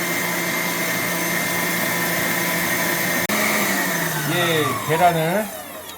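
An electric mixer creams butter for a pound cake, a steady motor whine that runs throughout, wavering and changing pitch near the end as the beaters work the mixture.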